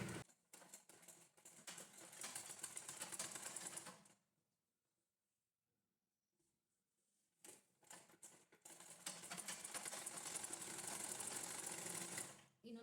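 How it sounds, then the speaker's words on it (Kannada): A sewing machine stitches a blouse in two long continuous runs of rapid mechanical clatter, loud and close, separated by a quiet pause of a few seconds. "ಬನ್ನಿ ಇವಾಗ ಸ್ಟಿಚ್ ಮಾಡೋಣ ನೋಡಿ."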